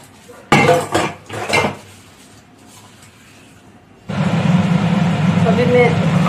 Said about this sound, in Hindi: ये ब्रेकफास्ट के बर्तन है, ये साफ कर लेती हूँ